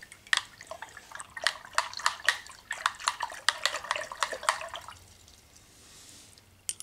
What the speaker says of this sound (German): Nochmal ein bisschen rühren.